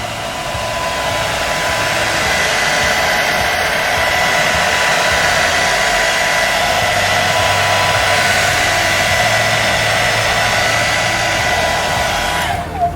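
A dryer blows cold air in a loud, steady whoosh that runs without a break, close by, drying spray-on wrap on a small car trim part, then cutting off at the end.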